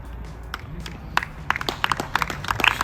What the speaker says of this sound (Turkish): Alkışlıyorlar. Sadece alkışlıyorlar.